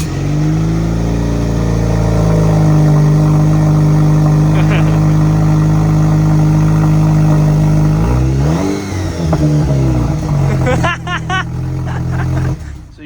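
A Jeep JL with an aftermarket high-mount exhaust and bolt-on upgrades sends out a loud, steady engine drone that swells into revs and changes pitch toward the end, close by, with a voice speaking over it.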